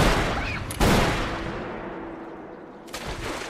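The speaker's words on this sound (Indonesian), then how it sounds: "Catherine punya kesempatan untuk mengambil pistolnya yang terjatuh, dan tanpa berpikir lagi Catherine langsung menembak Charlie" Pistol gunshots in a film scene: a loud blast followed by a long, rolling reverberant tail, then a second burst near the end.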